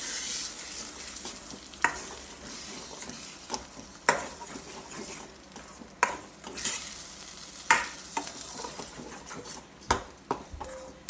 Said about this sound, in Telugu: కొంచెం ఇది వేగినాక అది వేగుతా ఉంది.